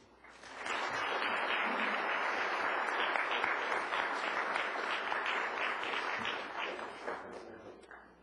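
Steady audience applause fills a lecture hall, rising quickly after a short lull and holding at an even, dense level for several seconds before tapering off, welcoming a speaker to a leadership network event.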